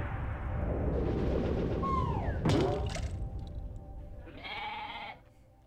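Sheep bleats in the video game Ōkami ring out over rumbling game ambience, with two short wavering calls midway and a longer bleat near the end.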